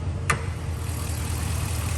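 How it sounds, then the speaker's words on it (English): A 2017 Ram 1500 Longhorn's V8 engine idles steadily with a low, even rumble throughout, after a brief sharp click near the start; no one speaks. "Nice healthy sounding V8 engine."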